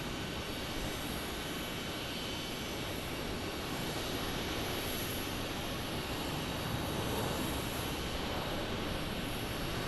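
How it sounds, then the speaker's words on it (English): Southwest airliner landing at Phoenix Sky Harbor International Airport, a steady broad jet-engine roar that holds at an even level throughout, heard from a distance outdoors without talk. "Las Vegas 3582 is your flight number for this Southwest landing."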